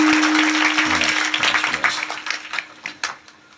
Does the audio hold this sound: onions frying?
no